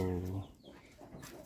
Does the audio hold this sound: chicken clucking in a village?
yes